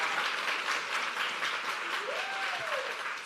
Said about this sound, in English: will you please put a big round of applause together for the incredible Faye?